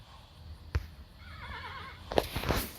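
A horse in the video game Kingdom New Lands neighs sharply as it rears, the short whinny followed by a louder burst of snorting and hoof noise, alone without talk.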